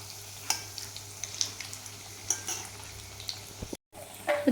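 Potato cutlets fry in hot oil with a close, continuous sizzle and occasional small pops and spatters.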